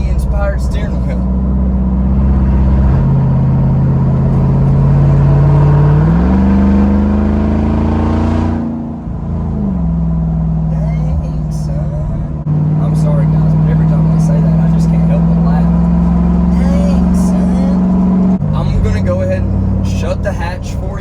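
A Jeep Wrangler Rubicon 392 with a straight-piped exhaust rumbles loudly at idle, revs up sharply around the middle, drops back, then settles into a deep, steady, booming drone.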